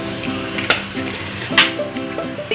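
Whole spices (bay leaf, fennel, clove and cinnamon) frying in hot oil in a pan, giving a close, crackling sizzle with a few sharp pops and light clinks, without any talk.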